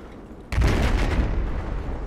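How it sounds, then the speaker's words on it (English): A grenade explodes in the video game Battlefield 4, one sudden loud booming blast whose heavy low rumble and debris noise carry on through the rest of the moment, with no talk. "Oh my god, there's so many grenades!"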